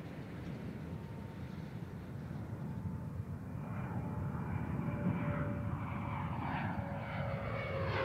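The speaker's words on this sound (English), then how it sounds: "deploying drag chute that'll help slow Endeavor on the runway" Space Shuttle Endeavour touching down on the runway: a distant, rising rumble and roar of airflow and rolling with a faint whine, growing slightly louder over the clip, no voices.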